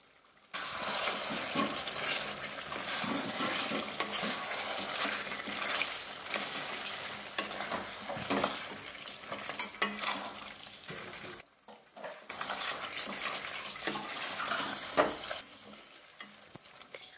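Chicken sizzles in a pan over a low-to-medium gas flame while being stirred, with scraping and frying crackle running on, broken by short pauses, and no talking.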